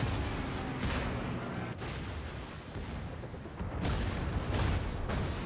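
Naval gunfire from the battleship HMS Nelson in World of Warships, a continuous loud roar of cannon blasts and explosions with broadband bursts around one second and again near four seconds.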